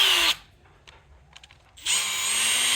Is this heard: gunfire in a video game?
no